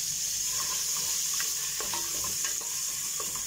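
Garlic and onion fry in a pan with a steady soft sizzle, while occasional light scrapes and knocks from a stirring spoon sound nearby.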